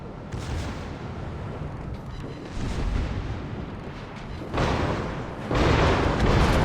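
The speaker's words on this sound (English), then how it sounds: "And we had about a 30k salvo on that." A warship fires a heavy salvo in World of Warships, with deep booming artillery blasts that swell in waves and hit hardest near the end. Cannon fire stays loud and rumbling, with little talk over it.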